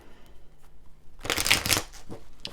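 A quick burst of tarot cards being shuffled, a crisp riffling flutter lasting about a second and a half after a quiet start.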